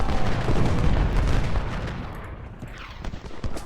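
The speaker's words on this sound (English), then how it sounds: "We'll let our cannons fire a volley or two" Cannons fire a volley in the Ultimate General: Civil War video game as the Union attacks a train station. Dense, loud booming blasts roll together at first, then thin into scattered distant reports.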